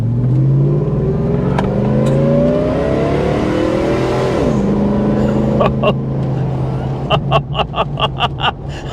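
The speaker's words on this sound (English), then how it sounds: "That Supercharger whine, though." Supercharged Hummer H2 truck being driven, a steady engine drone with a rising and falling whine as it accelerates, close and loud, followed by a few sharp clicks near the end.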